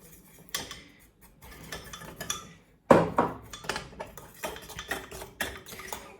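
Spoon scraping and clinking against a pot while cookies are mixed in over low heat while making homemade Toblerone, irregular metallic taps and stirring scrapes, close and fairly soft, with one sharper clatter midway.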